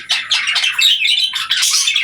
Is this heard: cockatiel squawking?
yes